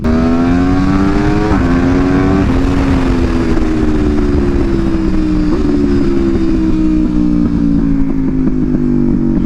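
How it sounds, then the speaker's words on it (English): An Aprilia RSV4 V4 sport motorcycle with a Spark titanium full exhaust revs loudly up and down through several quick auto-blipped shifts, with rough crackling backfire pops from the exhaust between throttle changes. "just the sound of that freaking V4, man, sounds incredible"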